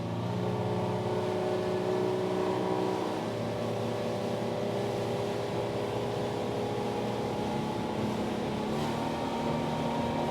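A Windy SR28 sportsboat runs at a steady speed at sea, its engines a constant close droning rumble mixed with wind and rushing water, unbroken and with no one speaking.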